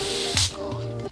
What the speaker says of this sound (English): I got a spray can out, an air spray can out, and I was just spraying my desk real quick